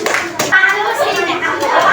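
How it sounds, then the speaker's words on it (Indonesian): Primary-school children in a classroom clap for a group that has just presented, a brief burst of close, lively clapping mixed with children's voices. "Ayo, tepuk tangan untuk kelompoknya"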